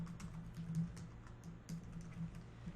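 Fingers tap out text on a computer keyboard in soft, irregular clicks, fairly quiet and close, over a low hum of background room noise.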